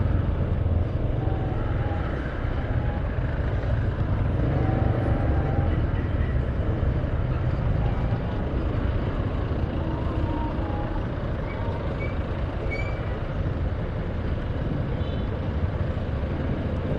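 Steady road traffic with trucks and cars, a continuous low rumble and engine drone that stays loud and even throughout, with no talking over it.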